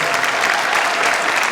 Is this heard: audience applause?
yes